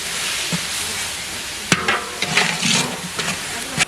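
Mint and coriander sautéing with onion and ginger-garlic paste in a pan for biryani, a steady close sizzle broken by a few scraping stirs and clinks of the spoon, with no talking.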